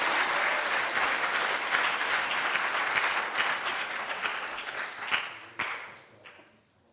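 Congregation applauding at a Shabbat morning service for a bar mitzvah, a full, sustained round of clapping that thins out toward the end with a few last claps before fading.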